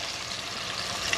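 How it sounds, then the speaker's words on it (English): Chicken tenders fry in hot oil with a faint, steady sizzle and crackle, close and continuous through a brief moment with no talking. "But isn't that the most glorious sound? Something frying."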